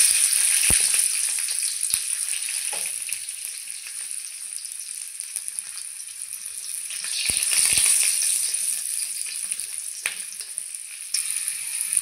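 A few garlic cloves fry lightly in oil, giving a soft, steady high sizzle with occasional small clicks and taps of a utensil, fairly quiet and close, no voices.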